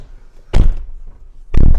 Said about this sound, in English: So we're going to shut the doors.